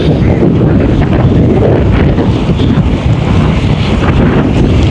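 Strong wind roars loudly and continuously across the seashore at a fishing village in Velanai, Thuraiyur, buffeting the microphone, with surf and waves washing underneath throughout.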